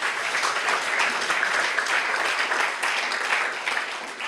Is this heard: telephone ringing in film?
no